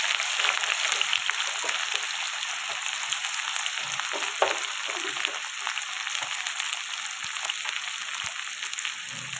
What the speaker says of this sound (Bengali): আমি 3টে মিডিয়াম সাইজের পেঁয়াজ কুচিয়ে নিয়েছিলাম, এবার তেলের মধ্যে ওটা দিয়ে দেবো।